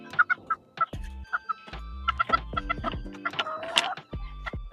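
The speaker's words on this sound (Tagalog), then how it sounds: "ito yung inahin ko guys na bantam" A bantam Serama hen clucks in short, repeated bursts, close by, with a few louder squawky calls mixed in and no talking.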